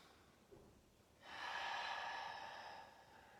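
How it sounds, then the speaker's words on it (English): A single long, deep inhale during a pilates session, breathy and close, rising after a faint earlier breath and holding for about two seconds. "Let's take a deep inhale."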